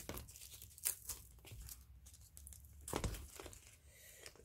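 Scissors snip and slice through paper on a mixed media notebook craft project, quiet irregular crisp cuts and crinkles close by, with no talk.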